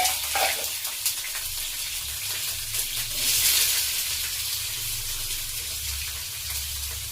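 Chopped green beans with curry leaves sizzle loudly in a hot pan, a dense continuous hiss that holds steady throughout without pause.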